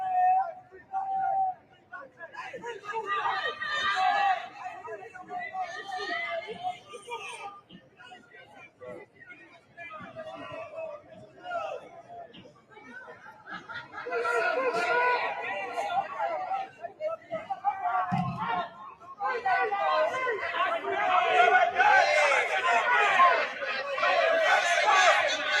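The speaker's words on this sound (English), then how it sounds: "the crowd has formed. It got bigger than what it was before" A large crowd of people gathered outdoors, a steady murmur of overlapping chatter and voices that swells louder toward the end, with occasional nearby speech standing out.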